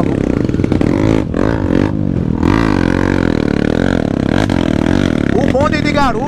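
A motorcycle carrying a passenger labours along a heavy mud trail, its engine revving and bogging in loud, close bursts while someone talks over it.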